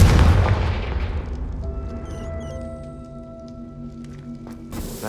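A Confringo spell blast in the Hogwarts Legacy video game opens with a loud, deep boom. It fades into a ringing, humming tail, and a smaller thud follows near the end.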